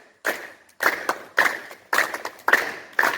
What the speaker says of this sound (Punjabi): ਇਹ ਬੀ ਗ੍ਰੇਡ ਤਾੜੀ ਆ